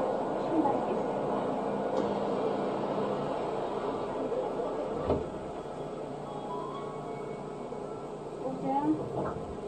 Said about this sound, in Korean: 열차가 곧 출발하겠습니다.